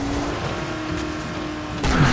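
A car drives in the zombie game Dying Light: The Following, its engine humming steadily and loudly, close by and without talk, with a brief swell of noise near the end.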